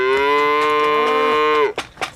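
A dairy cow on a calf-at-foot farm gives one long, loud, close moo lasting well over a second, followed by a couple of brief softer sounds.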